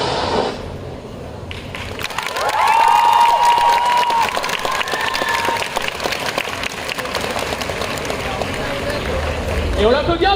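A crowd at a cosplay runway show at the GeekFest in Bordeaux applauds and cheers, dense clapping running throughout while a voice calls out over it.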